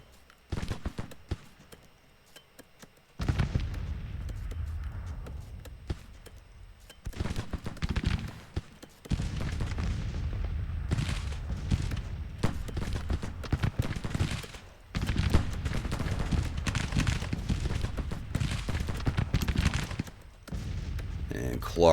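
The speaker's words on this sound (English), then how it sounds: "Come on, get some canister shots in there." Canister shot artillery fire erupts in a Civil War battle game, with bursts of booming and crackling gunfire in several loud volleys separated by brief pauses. Someone talks over the battle.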